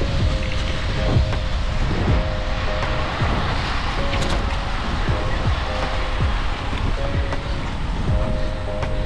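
Strong wind buffets the microphone during a bike ride, a loud, constant roaring rumble with no talking.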